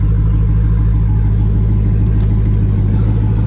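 A 2016 Dodge Challenger Hellcat V8 runs loud and close with a deep, steady throbbing rumble, a continuous burbling idle with no pauses.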